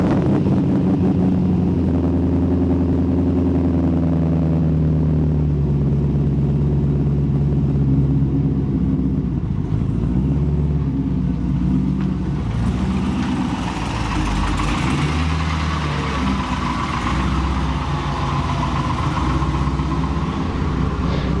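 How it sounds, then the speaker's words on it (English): A C5 Corvette with a power steering leak idles after a cold start, then drives off, its low engine drone steady and loud throughout with shifts in pitch as it moves. "let's get a cold start and go for a quick ride in the Corvette"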